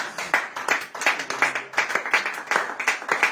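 A church congregation at a fasting and prayer gathering claps and applauds in a steady, rhythmic burst of many hands, loud and close throughout, with no talk over it.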